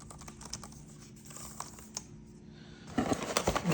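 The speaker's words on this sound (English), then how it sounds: "I'm typing pretty hard." Firm typing on a Dell Pro 7 Slim KM726 wireless keyboard, a quiet close run of soft key clicks that grows denser and louder toward the end.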